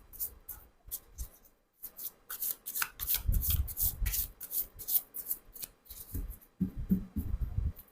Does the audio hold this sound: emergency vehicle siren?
no